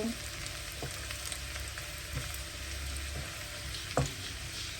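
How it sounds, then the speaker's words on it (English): Chopped garlic and ginger fry in a hot pot with a steady, close sizzle, broken by a few light stirring scrapes and taps. "now you have to make sure that your garlic and ginger is completely roasted"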